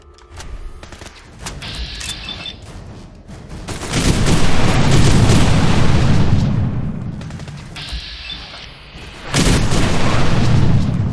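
Gunfire rings out in Fallout 4: sparse sharp shots first, then sustained loud bursts of rapid fire with booming impacts that swell, fade, and return strongly near the end.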